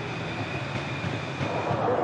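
Elevated metro train rolling overhead at Barbès in Paris, a steady broad rumble with a faint whine, continuous and fairly loud for the whole stretch.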